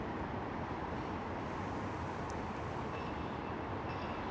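A West Midlands Metro tram runs along the line near Edgbaston Village, giving a steady broadband rumble and rolling noise with faint high squeals, continuous and without talk.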